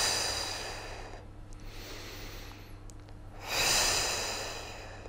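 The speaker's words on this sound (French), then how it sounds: "J'inspire ici." A person doing a biceps exercise takes a close, airy breath in, followed by a stronger audible inhale-exhale near the end, over a low steady room hum.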